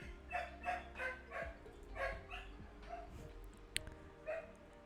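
Repeated dog barks in an uneven rhythm, several yaps close together, moderately loud over a faint low hum.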